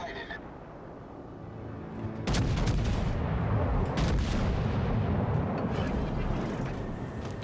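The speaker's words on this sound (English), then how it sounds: "somebody's shooting at me from far away" Booming naval gunfire in World of Warships: Legends, a T4 Texas battleship in PvP, heavy rumbling blasts rolling in from a distance and sustaining a dense low roar after a quieter start.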